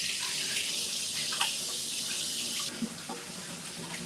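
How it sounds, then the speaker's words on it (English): Tap water running into a sink while hands are washed in a home kitchen, a steady close rushing stream that shifts in tone partway through as the flow changes. "And then I'll wash my hands."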